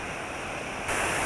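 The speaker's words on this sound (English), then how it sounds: "There it is, the beautiful St Cyrus Waterfall." St Cyrus Waterfall in full spate after heavy flow, giving a steady broadband rush of falling water that is close and continuous, swelling louder toward the end with no voices.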